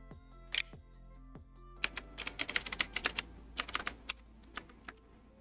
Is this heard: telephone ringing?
no